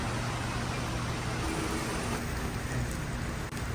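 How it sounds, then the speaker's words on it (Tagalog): Steady, dense rain pours down in a continuous hiss, loud and close throughout, with no talking. "Medyo malakas po ang patak ng ulan."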